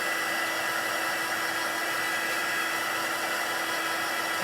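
Heat tool drying freshly stamped ink in a papercraft whitewash project, a steady, constant blowing whir with a faint hum, held evenly throughout, with no voices.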